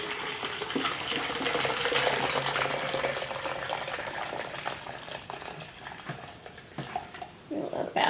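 Water runs from a kitchen tap into a kettle or pot for tea, a steady loud hissing gush that shifts slightly as the vessel fills, close and continuous with no talk.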